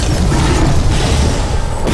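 A loud, dense rumble of booming explosions from the video game Alice: Madness Returns fills the whole moment, heavy and continuous with a slight crackle on top.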